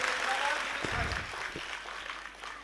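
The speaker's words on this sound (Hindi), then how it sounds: "मेरे उत्साह बढ़ाने के लिए तालियां दीजिए" An audience at a national poetry gathering marking Kargil Vijay Diwas breaks into a short burst of crowd applause, a dense clapping wash that swells and then fades slightly within a few seconds.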